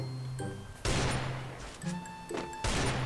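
Gunshots from a mobile shooting game ring out as a few sharp, separate bursts spaced about a second apart, each loud and close with a short ringing tail, and no voices over them.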